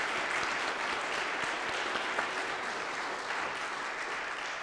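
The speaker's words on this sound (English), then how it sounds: "Give them a round of applause as we already are." During a Palm Sunday worship service, the congregation claps in steady, dense applause that fills the whole stretch at an even level, with no break.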